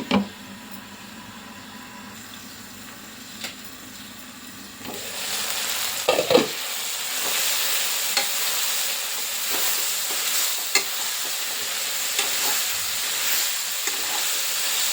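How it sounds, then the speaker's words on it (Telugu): Chicken and broad bean curry sizzling and frying in a pan, with occasional clinks and scrapes of stirring over a steady hiss that grows louder partway through; no talking. "మధ్య మధ్యలో ఈ విధంగా కలుపుకోవాలి."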